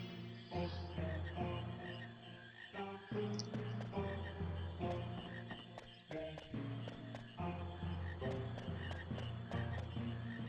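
Frogs croak in the swampy Qu's Marsh of the video game Final Fantasy IX, with repeated short croaks sounding over steady game music throughout.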